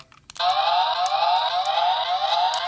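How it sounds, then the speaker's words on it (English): A DekaRanger Robo (Delta Squad Megazord) toy's police siren wails steadily and loudly after a few clicks, its electronic tone rising and falling rapidly for the rest of the clip. "And all it does is the police sirens."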